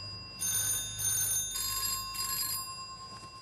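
An old 1960s telephone bell rings in four short bright bursts with brief gaps between them, fairly clear over a quiet, low hum of room noise.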